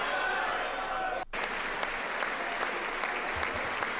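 Members of Congress clapping during a State of the Union address, a steady wash of dense applause from a large chamber with a brief dip early on, continuing evenly throughout.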